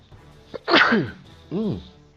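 A single sharp sneeze bursts out close up, followed by a short vocal sound like a groan or reaction.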